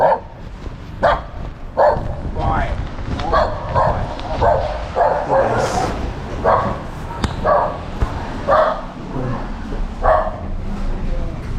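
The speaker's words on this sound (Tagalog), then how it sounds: "maingay yung aso" A dog barks repeatedly in short bursts, fairly close and loud, with sharp clatter and background chatter from people nearby.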